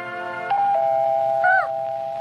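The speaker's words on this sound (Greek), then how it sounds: "Το κουδούνι." A doorbell rings in a Felix the Cat cartoon: a clear, sustained electronic chime tone that holds steady, with a brief higher wobbling note partway through, and no voices.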